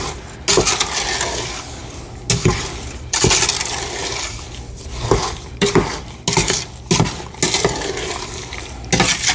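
Peaches and sugar being stirred in a pot: thick, heavy scraping and repeated clunks of a spoon against the pot wall in irregular bursts, close and loud, with no voices.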